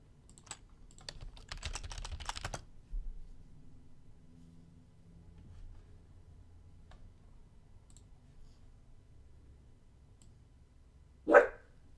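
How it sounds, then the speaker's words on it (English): A dog gives a single loud, sharp bark near the end, after a quiet stretch that opens with brief computer keyboard typing. "My dog is just gonna bark now."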